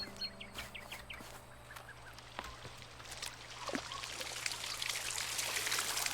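A watering can pouring onto a potted plant in Botany Manor, a faint trickling stream that swells toward the end, with soft bird chirps in the background.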